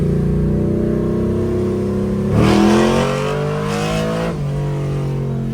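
Car with a modified Turbo 400 automatic transmission driving in first gear, a loud close engine drone that rises in pitch as it revs, briefly surges, then eases back.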